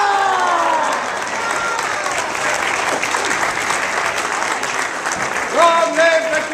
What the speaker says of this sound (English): Please rise and give cheer to greet your monarchs, King Arthur and Queen Guinevere.